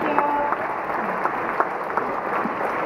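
An audience claps steadily at the Bologna Children's Book Fair Ragazzi Award ceremony, a dense, even patter of many hands with a few sharper individual claps, and brief faint voice fragments early on.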